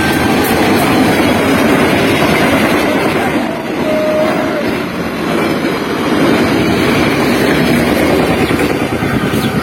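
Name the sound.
train passing by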